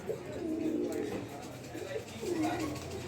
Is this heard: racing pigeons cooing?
yes